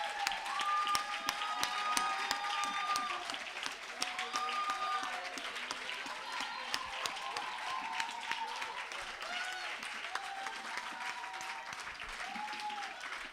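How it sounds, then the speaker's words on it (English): Sustained audience clapping at an outdoor palm wine and poetry festival event, moderately distant, with cheers and voices mixed in over the steady patter. "Please clap for them."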